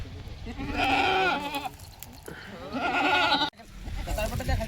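Kathiyawadi goats bleat loudly in repeated, wavering calls close by, with a brief break near the end before another bleat.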